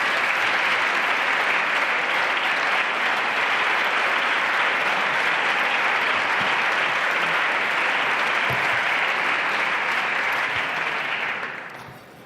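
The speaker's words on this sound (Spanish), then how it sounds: "Este aplauso que agradezco más que sinceramente y que resulta francamente emocionante." Sustained applause in a parliament chamber, a dense even clatter of many hands lasting about twelve seconds before tapering off at the end.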